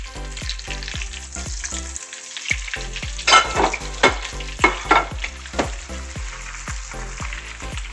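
Shrimp for coconut shrimp frying in hot oil at 375 degrees, a steady sizzle broken by a regular train of sharp clicks and brief bursts of louder crackling as pieces go in.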